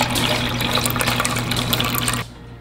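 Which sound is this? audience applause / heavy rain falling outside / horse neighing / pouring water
pouring water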